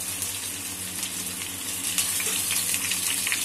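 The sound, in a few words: taro root (arbi) frying in oil on high heat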